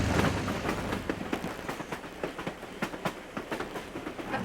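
Alaska gold rush train crossing a high wooden trestle, a steady rumble with irregular clanks and wheel clicks, heard from aboard and fairly distant.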